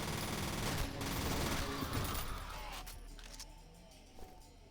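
SMG fire in the shooter F.E.A.R., played on Xbox Series X: a dense burst of rapid shots up front that thins out and fades toward the end, with no voices over it.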